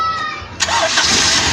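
A gasoline or diesel engine powered by a DIY 100Ah LiFePO4 battery with a 600A BMS cranks briefly and catches on the first try, then settles into a loud, steady running roar close by.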